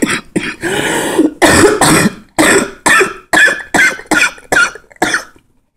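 A run of about ten harsh coughs in quick succession, loud and close, each burst separated by a brief gap, trailing off at the end.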